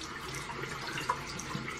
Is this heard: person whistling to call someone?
no